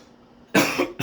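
A sick man coughs twice, loud and close, a harsh burst followed by a shorter one after a brief pause, over a quiet room.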